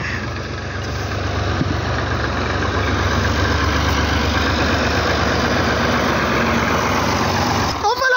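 A tractor engine idling steadily with a continuous low rumble and mechanical clatter throughout, near and loud, while a tractor-trolley is taken to be filled with soil by bucket.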